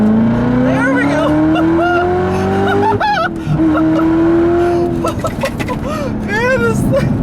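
A manual 2019 Chevrolet Corvette ZR1 accelerates from low gears, its engine roaring loud and close. The pitch rises, a gear change breaks the note about midway, then it climbs again with brief squeal-like tones on top.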